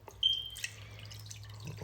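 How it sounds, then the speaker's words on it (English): Half a cup of chicken broth poured into a bowl while cooking, heard as a few faint, brief drips and a thin splash, quiet and close, with no talking. "we're gonna use a 1/2 cup of chicken broth, and we're gonna pour it in a bowl."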